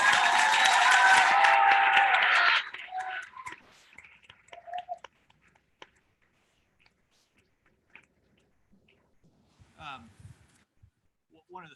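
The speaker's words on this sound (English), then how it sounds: "would you join me in just giving our oralists one final round of applause?" Applause for moot court oralists at a courtroom competition final: a dense burst of clapping for about two and a half seconds that stops abruptly, followed by faint scattered rustles and small noises in a quiet room.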